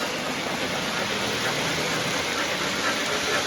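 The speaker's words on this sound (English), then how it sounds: "Got the engines running for the video's sake." Several K-Line model train engines run together on a layout, including a steam engine, making a steady, continuous mechanical whir and rumble without pauses or talk.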